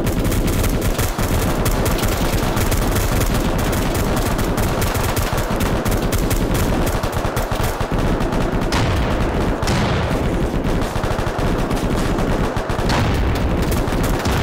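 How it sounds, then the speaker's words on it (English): Heavy automatic gunfire rattles through an ambush in dense, continuous bursts, loud and close for the whole stretch. "Shot, gunshot."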